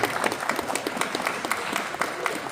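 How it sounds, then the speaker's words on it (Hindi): An audience at a public gathering announcing a surrender by Maoist insurgents in Gariaband claps steadily, dense and close, with no break for the whole stretch. "हम इस निर्णय का हम सब ताली बजाकर स्वागत"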